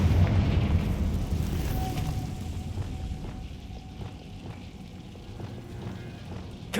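A Confringo fire spell bursts in Hogwarts Legacy with a loud blast at the start, then a dense rumbling roar that slowly fades and crackles on for several seconds.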